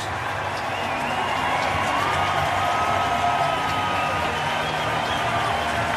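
A baseball stadium crowd cheers and whoops in a sustained ovation for pitcher Dylan Cease leaving the Blue Jays–Giants game, with applause and a voice faintly under the roar.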